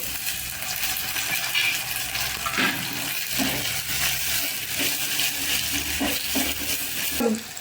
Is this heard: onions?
yes